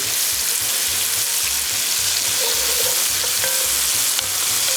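Chicken pieces brown in olive oil and butter for Chicken Marsala, a strong, close, continuous sizzle over a low, rhythmic pulsing bubble, with no talking.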